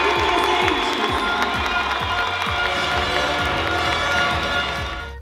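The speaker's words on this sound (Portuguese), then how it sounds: "Eles receberam seus diplomas de conclusão de curso em meio a muitos aplausos." Dense applause and cheering from a large crowd at a graduation ceremony, steady and loud throughout, with a rhythmic thumping underneath and a slight fade at the end.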